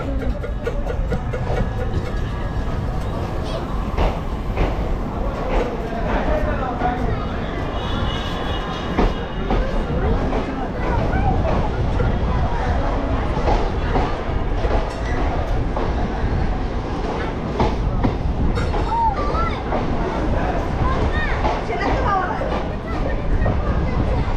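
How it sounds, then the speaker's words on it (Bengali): A Kolkata–Haldibari train leaving Bolpur rumbles along the rails at steady speed, a continuous rolling clatter with occasional squeaks, and voices faintly mixed into the din. "এই বোলপুর থেকে ছেড়েও দিল ট্রেন আমাদের"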